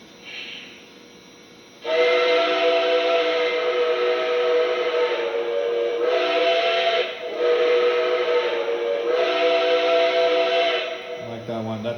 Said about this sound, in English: That's the Nickel Plate Road Berkshire whistle.